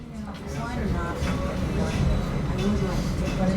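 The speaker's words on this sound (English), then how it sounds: "As we roll into the station, the train continually slows." A scenic railroad train rumbles low and steady as it slows into a station, with continuous wheel and car noise under a person talking.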